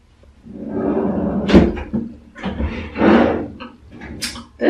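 In a bathroom being reorganized, a drawer or cupboard is opened and closed, producing several knocks and wooden scrapes at close range that are spread across the few seconds.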